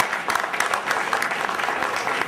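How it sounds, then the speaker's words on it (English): A crowd applauds after a performance at a live event, brisk, steady clapping with a few sharper claps standing out, fairly loud and continuous. "Give them a round of applause."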